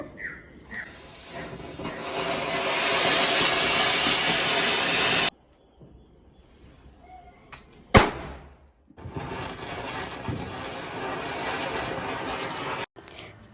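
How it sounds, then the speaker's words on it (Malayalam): Vishu firecrackers set off outdoors, with a long hissing, crackling fuse-and-spark burst, a sharp bang after a brief quiet, then another sustained crackling hiss ending in a snap. "കാണുവന്നോ പടക്കം പൊട്ടിക്കുന്നേ?"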